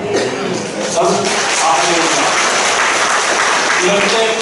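Applause from a seminar audience at a church gathering, dense clapping that rises and holds loudly throughout, with voices faintly mixed in.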